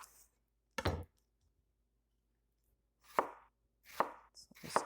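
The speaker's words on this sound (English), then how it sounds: "finely dice the onion" A knife finely dicing an onion on a cutting board gives a sharp chop, a long pause, then three more crisp strokes in quick succession, close and clear in a quiet room.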